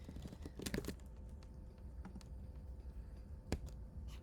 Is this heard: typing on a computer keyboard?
yes